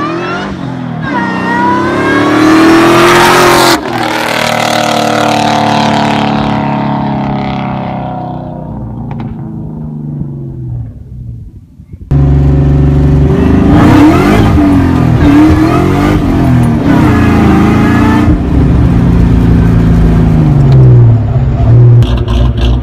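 A 2000 Mustang GT fitted with a Kenne Bell supercharger revs and accelerates loudly and close by, its engine note climbing and falling through long pulls, a brief lull, then renewed hard revving.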